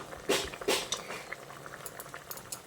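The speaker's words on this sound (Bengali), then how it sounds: "আরও 2-3 মিনিট আমি ঝোলের সঙ্গে বড়াগুলো দিয়ে ভালো করে ফুটিয়ে নিয়েছি" Potol fritters simmering in curry gravy, soft bubbling of a boiling pot with a couple of sharp spoon clinks against the pan near the start, close and quiet.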